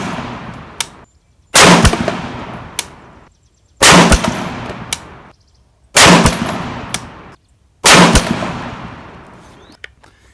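An RRA 20-inch varmint rifle fires a five-shot group at 100 yards. The five loud, sharp reports come about two seconds apart, each followed by a ringing decay, with a faint click before the first.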